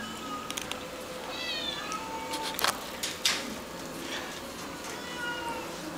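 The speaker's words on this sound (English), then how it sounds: "Pretty kitties." Cats being given treats meow several times up close, a few short cries spread across a quiet indoor scene with faint handling noises.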